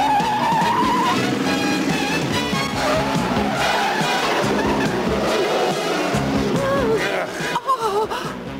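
A car pulls away hard with screeching, skidding tires during a getaway scene, loud and sustained, with the engine roaring under the squeal and a brief gasp near the end.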